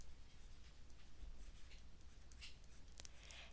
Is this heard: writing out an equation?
yes